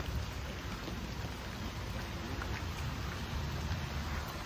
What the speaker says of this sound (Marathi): तरी पण पाऊस कंटिन्यू चालू आहे.